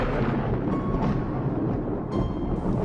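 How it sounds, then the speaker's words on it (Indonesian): A deep thunder crash rolls and rumbles continuously for about three seconds, loud and broadband, serving as a storm sound effect in an Indonesian narrated picture story. "sebuah kilat berkelebat diikuti petir menggelegar dahsyat"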